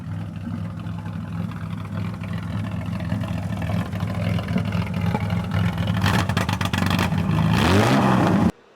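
Marine V12 engine in a Lamborghini LM002 SUV rumbles steadily with a deep, boat-like exhaust drone that swells as it revs near the end, loud and close with no talk.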